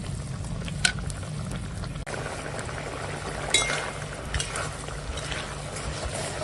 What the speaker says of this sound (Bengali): এখন দিয়ে দেব এই কুলেখাড়া শাক।